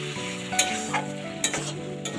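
Green chillies go into moong dal cooked with banana flower, stirred in a hot pan: a steady sizzle runs throughout, with a few sharper clatters and scrapes from the spoon against the pan.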